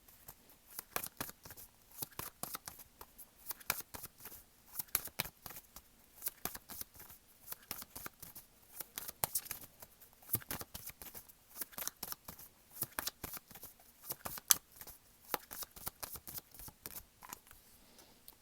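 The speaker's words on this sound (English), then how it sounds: "I'm going to continue shuffling." A tarot card deck is shuffled by hand in quick, uneven bursts of papery riffles and soft slaps, close and fairly quiet, with no one talking.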